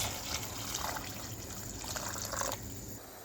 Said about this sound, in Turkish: Malzemelerimizi kavurduktan sonra 4 su bardağı kadar sıcak suyumuzu ilave ediyoruz.